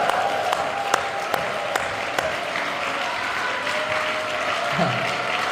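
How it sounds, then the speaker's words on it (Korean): A large church congregation applauds steadily and loudly, a dense sustained patter of clapping filling an indoor hall. "할렐루야로 박수로 영광을 드리기 바랍니다"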